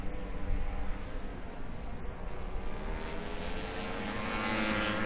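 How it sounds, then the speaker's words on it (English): A Ducati Panigale V4 Tricolore motorcycle engine at Misano World Circuit, loud and sustained as the bike accelerates on track, its steady high-pitched roar rising slightly toward the end. "on the power with this Panigale V4 Tricolore"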